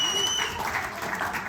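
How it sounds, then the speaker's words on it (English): Comedy-club audience applauding briefly in a small room, a short burst of clapping with a little crowd noise and some talk mixed in. "give me a round of applause for the 6-hour trip"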